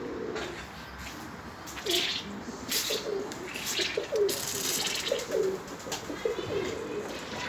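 Pigeons coo in a series of soft, repeated throaty calls at moderate distance over a steady hiss of background noise, with a few faint chirps mixed in.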